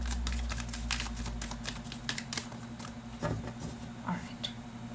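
Tarot cards are riffled and flicked in quick, crisp papery bursts over a steady low hum.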